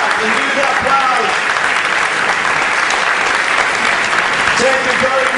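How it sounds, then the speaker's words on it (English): A large audience stands and applauds after a debate, dense sustained clapping filling the hall at steady loudness with some voices mixed in. "Stand up and give the applause."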